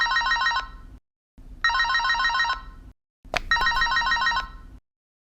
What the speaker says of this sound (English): the bride receives a phone call.